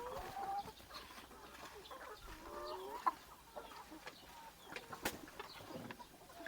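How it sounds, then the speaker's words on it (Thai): Quiet farmyard scene with chickens softly clucking and pecking at feed, a few faint squawks and scattered clicks over low background noise. "ไก่กินอาหารนะครับ"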